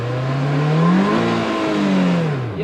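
A Polaris Slingshot launching off the line with its tires spinning: a loud, close engine note climbs and dips through strained revs, wavering as the wheels break traction, with no voices.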